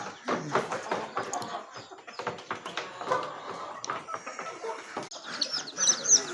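Native hens and their hen-hatched chicks chirp and cluck close by in short, irregular bursts, with soft scratching and shuffling between calls and brighter peeping toward the end.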